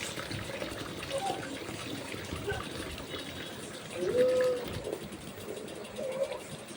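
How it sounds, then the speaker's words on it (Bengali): Rice being rinsed in water in a home kitchen, with soft sloshing and trickling that rises and falls irregularly at moderate volume, while faint background voices and household noise carry on. "এদিকে চালটা ধুয়ে নিলাম।"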